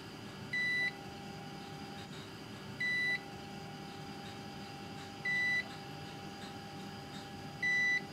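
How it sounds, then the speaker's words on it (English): A watch testing machine in a watch manufacture laboratory gives four evenly spaced electronic beeps, each about half a second long, over a quiet steady hum. "You hear the machine beeping"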